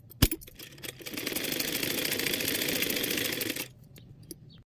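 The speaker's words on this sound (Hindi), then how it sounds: "अब हम इसको पलट के अस्तर पे सिलाई लगाएंगे इस तरीके से सीधा करते हुए।" A home sewing machine stitches the lining of a blouse sleeve, running in a steady, close mechanical whir for about two and a half seconds, with a few clicks before it starts and a quiet stop after.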